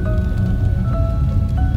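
Heavy monsoon rain pouring down in the mountains near Manali, a dense steady roar of drops drumming on surfaces, loud and close, with faint tones above it.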